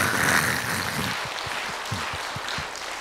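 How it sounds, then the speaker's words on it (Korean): A church congregation applauding to give glory to God: a dense wash of many hands clapping together, with a few distinct claps standing out toward the end. "이제 우리 응답 주실 하나님께 영광 박수 올려드리겠어요"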